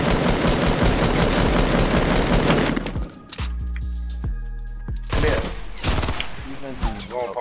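Rapid automatic gunfire in a battle-royale shooter fills the first few seconds, loud and dense, then drops to sparse shots and game effects before more bursts return near the end, with players talking over it.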